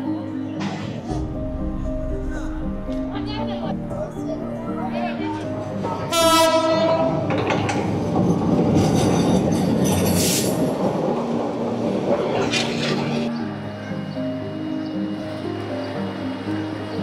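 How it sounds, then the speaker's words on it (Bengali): A train rolls past a busy fish market where a vendor calls out tilapia prices. A loud horn blast comes around six seconds in, followed by heavy rumbling and clatter under steady voices. "আবার ট্রেন আইতাছে আবার।"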